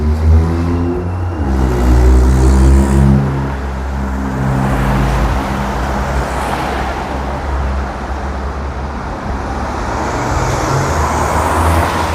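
Sofia public transport number 1 pulling in on a busy street, a low vehicle engine rumbling and whirring loud and close over steady traffic noise, with no voices.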